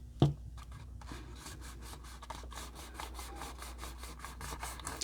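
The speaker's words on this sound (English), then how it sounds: "bring this up and hold it on both sides and burnish it" A hand burnishes a paper pocket onto a handmade note holder with a quick, steady back-and-forth rubbing, close and fairly soft after a single sharp tap at the start.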